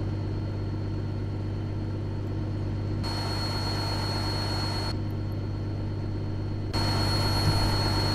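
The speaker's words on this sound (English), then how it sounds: "I actually think this is one of the stock engine sounds, but it still sounds pretty good though." A Kenworth T660 truck idling in American Truck Simulator, a steady low engine hum that holds constant throughout, with no voices.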